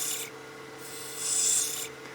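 Lathe tool cutting a honeycomb pen blank on a pen mandrel: two short rasping scrapes, the second louder and longer, with a steady motor hum underneath.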